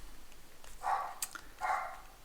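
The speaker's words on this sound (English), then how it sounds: "I don't know what she's barking at." A dog barks twice, faint and somewhat distant, over quiet room noise.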